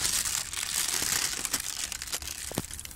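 Plastic bag sheeting crinkles and rustles continuously over potted winter flowers in a garden corner, a close, dense crackling with a few sharper crunches and no voices.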